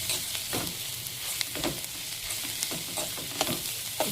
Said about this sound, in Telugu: ఇదంతా దీంట్లో వేసేసి దీన్ని మంచిగా వేయించుకుందాం.